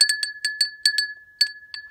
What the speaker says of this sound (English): And then I have my altar bell, which I ring for spirit, whatever deities I'm working with